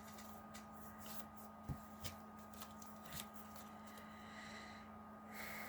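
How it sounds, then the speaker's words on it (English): Magic: The Gathering cards are drawn and slid back onto the top of a library, giving soft brief shuffling and flicking sounds with a few light taps against a steady quiet background hiss. "I draw 3 cards, then put 2 cards from my hand back on top of my library in any order."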